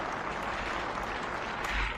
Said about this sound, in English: we'll give her a big round of applause